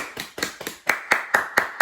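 Hands clap eight times in a steady, evenly spaced rhythm, crisp and close, imitating loud rain in a children's activity.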